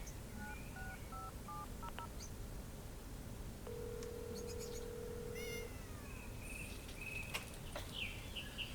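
A cat meows in the Secret Files Tunguska video game, mixed with phone keypad dialing tones, a sustained electronic buzz like a phone vibrating, and chirping game ambience, all at moderate level with no talk.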